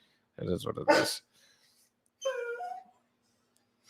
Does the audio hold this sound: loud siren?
no